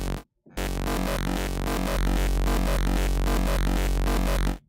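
In a techy electronic beat, a sub bass synth holds a deep, loud low tone beneath dense pulsing synth layers after a brief gap, the whole mix sustained and heavy for about four seconds before cutting off.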